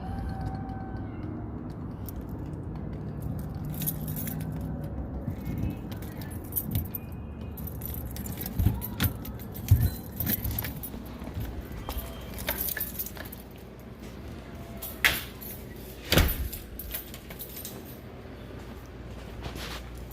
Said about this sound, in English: Unlock this door.